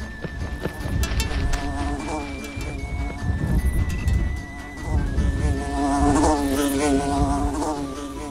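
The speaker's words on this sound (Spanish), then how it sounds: "La avispa no me deja oír." A wasp sound effect from an audio video game buzzes on and off around the listener, loud and close, while people talk over it.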